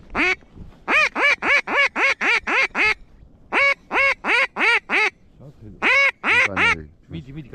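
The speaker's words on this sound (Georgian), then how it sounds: "ცოტა იხვიც მოძრაობს" Loud, close duck quacks during a duck hunt in Samegrelo, Georgia, arriving in rapid rhythmic bursts of about eight calls, then four, then three, with a brief murmur of voices between the runs.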